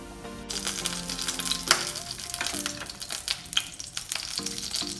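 Cumin seeds dropped into hot oil in a pan, frying with a steady crackling sizzle and light stirring clinks, close and continuous with no talk.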